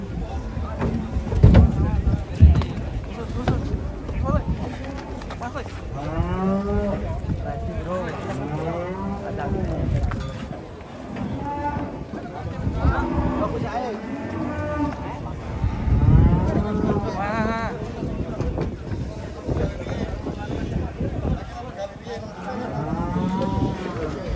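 Large cattle unloading from a truck at the Jelok market moo repeatedly in long, deep, wavering calls, some close and loud, others farther off, with people talking and wind buffeting throughout.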